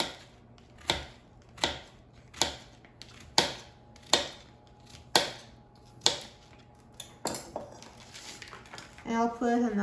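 Knife chops quartered squash and zucchini into pieces on a board with about nine sharp, evenly spaced close thuds, followed by a brief rustle and a voice at the end.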